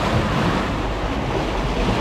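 Waves stirred up by a passing ship wash against the shore in a continuous rough, splashing rush, mixed with wind buffeting the microphone.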